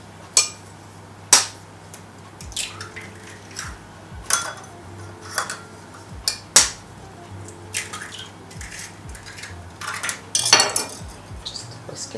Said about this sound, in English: Just whisk it.